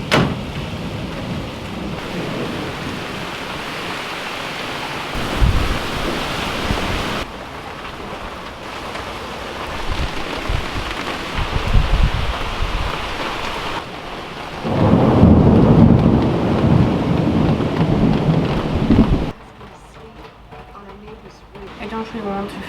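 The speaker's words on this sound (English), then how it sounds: "It is actually raining now and there's some thunder." Heavy rain pours steadily during a thunderstorm, with low rumbles of thunder rising and falling and a louder burst midway before the sound drops to a quieter hiss; a voice talks at times.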